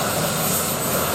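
A display team helicopter flies past at the Abingdon air show, a steady, loud, broadband rotor and engine roar that fills the moment without pause and with no voices over it.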